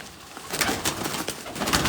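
Several loft pigeons give low, throaty coos close by, the rolling calls overlapping in a steady murmur, with brief airy bursts cutting through.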